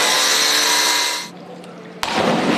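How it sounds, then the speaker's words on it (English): A chainsaw motor buzzes in a testing lab, a loud high whine that cuts off after about a second and a half, then starts again abruptly with a sharp burst, heard close with no talk. "chainsaw motors buzz."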